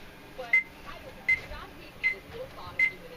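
A microwave convection oven in an R-Pod RV beeping four times at a steady interval of just under a second, thin high-pitched tones, with faint talk in the background between beeps.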